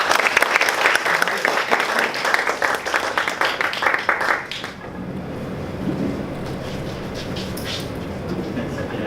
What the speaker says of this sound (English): A round of applause for Tan Chee Yong with his speech titled "The Change You Need."